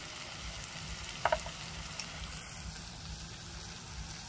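Spices frying in a pan for a spicy dried lote fish chutney, a steady close sizzle with a brief clink of stirring partway through, no talking over it.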